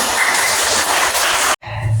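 Students clap together in a classroom, a dense, steady burst of applause that fills the room and then cuts off abruptly, followed by faint low room noise.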